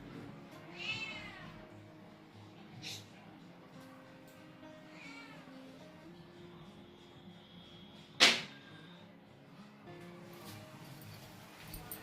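Pluto the cat meows by a window, a few drawn-out mews spread across the stretch, with a sharp brief knock partway through and quiet speech-like murmurs in the background.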